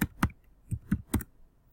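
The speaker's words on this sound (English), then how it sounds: "I'm going to type this in my calculator" Short plastic clicks from a calculator keypad as numbers are keyed in, five or six distinct taps in an uneven rhythm, close and fairly quiet, with no talking.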